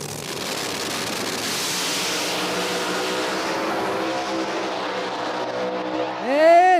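Street Outlaws No Prep Kings drag race cars at Brainerd, Minnesota, roaring loudly down the track in a sustained engine wash, then a sharp tire squeal near the end.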